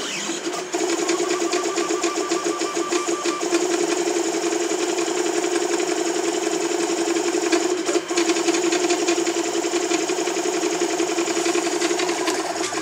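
3D printer stepper motors driven by TMC5160T drivers at 1.4 amps, fitted to an Orca Super Cube, whir and whine continuously and steadily up close, a busy mechanical drone with brief dips, with no talk over it.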